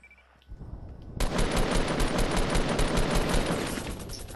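Minigun fire in Fortnite, a sudden continuous burst of rapid rattling shots that starts abruptly after a quiet moment and keeps going loud and close for several seconds.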